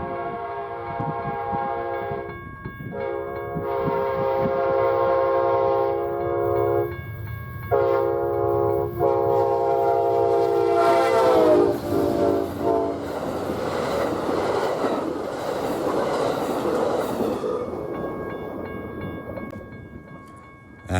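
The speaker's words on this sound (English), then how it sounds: "First train of the day was a Los Angeles to Chicago Amtrak 4, making its way past the Camino Los Abuelos road crossing" Amtrak 4, the Los Angeles to Chicago passenger train, sounds long, loud horn blasts at the Camino Los Abuelos road crossing in Santa Fe County, New Mexico, then rumbles and clatters close by as it passes.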